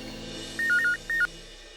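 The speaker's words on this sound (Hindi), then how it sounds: "चाची मैं मामा को फोन करके आता हूँ।" A phone dialing a call, a short run of keypad tones beeping in two quick clusters over a faint background hum, close and clear with no talking.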